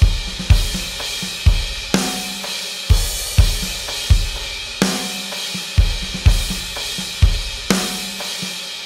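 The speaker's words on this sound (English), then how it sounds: "soloed without anything else, the drums sound like this" A punchy, compressed EZ Drummer 2 programmed drum kit plays a steady groove alone, with tight kicks and snare hits, bright cymbals, and even, repeating accents.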